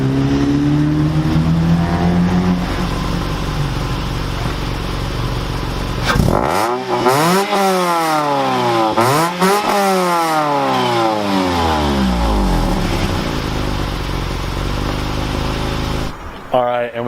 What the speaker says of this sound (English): we just gave you a little exhaust clip there